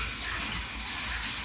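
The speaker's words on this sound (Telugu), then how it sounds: "1 లీటర్ నీళ్లు వేస్తున్నా." Water running steadily into a large cooking pot on a lit gas stove, a continuous gushing pour heard alone at moderate volume.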